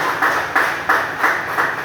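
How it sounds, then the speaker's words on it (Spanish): A church congregation claps together in a strong offering of applause to God, the loud, even beats landing about three times a second, near and without voices. "Con esa fuerte ofrenda de palmas a nuestro Padre Celestial."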